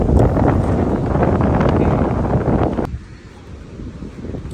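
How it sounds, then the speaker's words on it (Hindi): Strong wind in Pondicherry buffeting the microphone, a loud roaring gust that drops off abruptly partway, then quieter rustling wind returns. "क्या हवा चल रही है"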